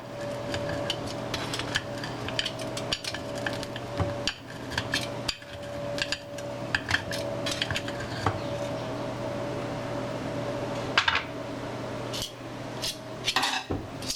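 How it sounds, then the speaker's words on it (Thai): Repeated scraping and clinking of a spatula lifting an egg dish from an oil-sprayed pan, irregular metallic taps and scrapes close by. "แซะออกค่ะ รอบนี้จะแซะง่ายหน่อยนึงเพราะเราใช้สเปรย์น้ำมันช่วยนะคะ"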